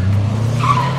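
A BMW car drives with a steady low engine drone, then its tires briefly skid and squeal partway through the second-long burst.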